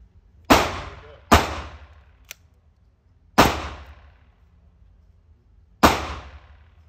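Four sharp, loud Sig P320 pistol shots ring out at a 7-yard range, irregularly spaced with brief echoing decay, plus one faint small click between them.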